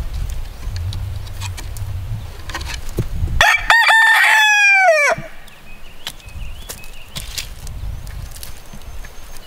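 A rooster crows loudly once, close by, amid scattered clucking and soft background noise.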